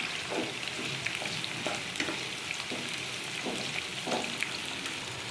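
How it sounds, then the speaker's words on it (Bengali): Dried chepa shutki fish frying in a pan over medium heat, a steady soft sizzle with faint crackles and a few light stirring scrapes, fairly quiet throughout. "মিডিয়াম আছে ভালো করে এটাকে ভেজে নিতে হবে। পুরো লাল করা যাবে না।"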